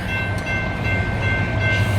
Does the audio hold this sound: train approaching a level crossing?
yes